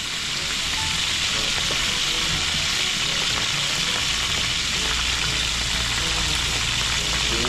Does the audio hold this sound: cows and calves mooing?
no